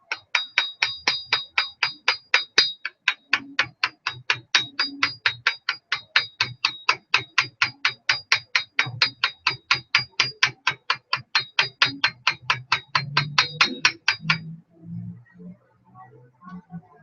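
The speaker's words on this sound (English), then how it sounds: "We're gonna hammer that out flat like I did with the other one" A hammer strikes a round piece of matte steel over and over at a steady quick rhythm, each blow a bright ringing clang, close and loud, for about fourteen seconds before stopping, with faint handling noise after.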